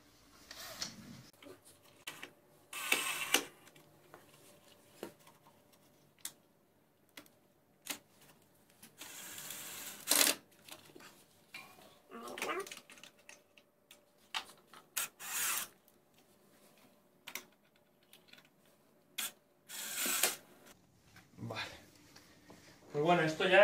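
A hand screwdriver drives screws into a mosquito screen frame, giving short rasping turns and small clicks in scattered bursts with quiet pauses between them, close by.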